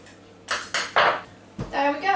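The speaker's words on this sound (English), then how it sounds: "now we're going to trim around the edges again to make it nice and neat" Knife scraping and tapping against a pie dish while pie crust edges are trimmed for an apple or meat pie, a few brief clinks and scrapes in quick succession, close and moderately loud.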